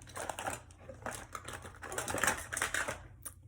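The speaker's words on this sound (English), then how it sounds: "I gotta shuffle through my stuff" Makeup items shuffled and clattering during a get-ready routine, rapid light taps and plastic clicks in quick irregular bursts, close and fairly quiet.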